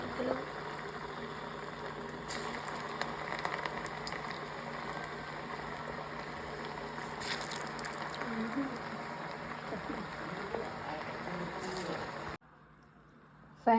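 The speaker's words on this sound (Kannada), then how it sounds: "ಈಗ ಎಣ್ಣೆಗೆ ಫ್ರೈ ಮಾಡೋಣ." Aloo bread crumb balls deep frying in hot oil give a steady, dense bubbling sizzle that runs continuously for about twelve seconds before dropping away abruptly near the end.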